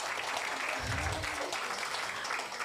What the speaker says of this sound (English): give our speakers a round of applause